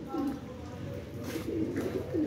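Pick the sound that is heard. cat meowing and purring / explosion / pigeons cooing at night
pigeons cooing at night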